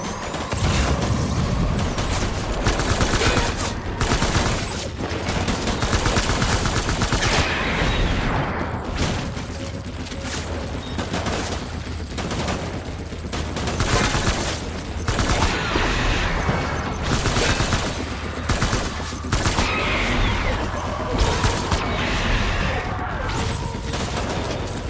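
Heavy gunfire rattles through a Death Stranding video game cutscene, a dense, continuous barrage of overlapping shots and bursts that stays loud and close for the whole stretch, with faint voices buried beneath.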